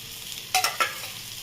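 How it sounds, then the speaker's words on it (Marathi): Bitter gourd pieces fry in a little oil in a pan over low heat, with a quiet sizzle broken by a couple of short, sharp clinks of a utensil against the pan. "बारीक गॅसवरती चांगली एक साईड आधी परतून घ्यायची"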